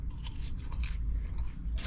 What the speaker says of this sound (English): So I'm eating some dry fries, but it's all good.